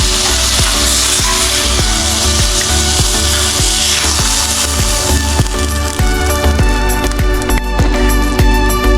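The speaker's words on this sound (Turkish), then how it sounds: "Ekmeği doğramaya başlıyorum." A knife chops through bread on a board in quick, steady strokes while making lamb mutancana, with loud music playing over it.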